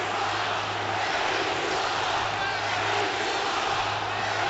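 Hockey arena crowd at a Dallas Stars vs Colorado Avalanche NHL playoff game, a sustained loud roar of booing aimed at the referee that fills the whole stretch without letting up.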